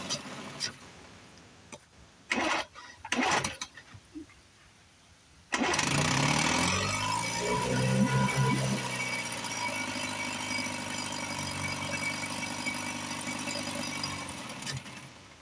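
A Johnson outboard motor sits under a few sharp knocks and clatters, then starts about a third of the way in and settles into a steady, fairly loud running drone that lasts to the end.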